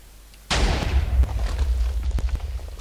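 A sudden loud TNT explosion in a video game booms and rolls into a long, rumbling crackle of debris, with a few sharper pops scattered through the decay.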